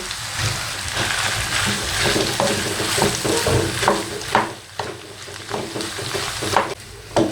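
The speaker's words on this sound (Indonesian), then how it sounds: "Kita aduk hingga rata agar dagingnya semua tercampur merata." Minced meat samosa filling stirred in a pan, a close, continuous sizzle with repeated scraping strokes of the spoon, loud and uneven, with no voices.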